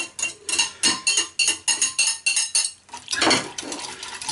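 Chopped tomato, garlic and onions are tipped into a bowl, with a quick run of rhythmic clinks and scrapes of utensil against dish, followed by a looser clattering jumble, close and clear with no talking.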